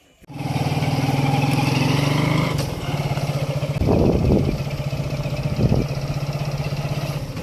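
A motorcycle engine starts and runs at a steady mid-pitched drone on a short ride, with a couple of louder revving surges partway through.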